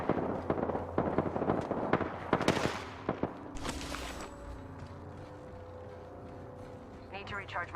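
Bursts of gunfire from a first-person shooter battle, a rapid cluster of loud shots near the start, a few more cracks, then steady game ambience with a whooshing effect.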